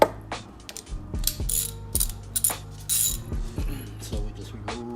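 Ratchet clicking in a garage while a top starter bolt is broken loose, rapid repeated pawl clicks in several bursts with metallic clinks, close and fairly loud, no talking.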